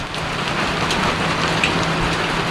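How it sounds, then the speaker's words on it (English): Heavy tropical rain pours down steadily in El Nido, Philippines, during a sudden sunny downpour, producing a dense, even hiss of drops on surfaces that fills the scene without pause. "Raining pretty heavy as well"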